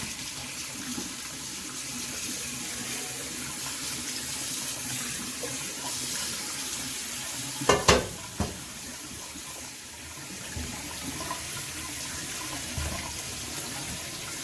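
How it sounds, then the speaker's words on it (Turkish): Cooked minced-meat pasta is rinsed under a cold kitchen tap, a steady stream of running water hissing into the sink throughout, with a couple of brief clatters near the middle and no talking. "O halde onu yapışmaması için Soğuk su altında tutuyoruz biraz ve süzüyoruz."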